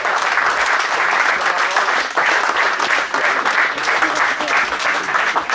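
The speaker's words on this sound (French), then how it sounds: "On l'applaudit comme il se doit." Sustained, full applause from a gathered audience at a union local's New Year wishes event honoring Roger Poupon, loud and close with a brief dip partway through before the clapping swells again.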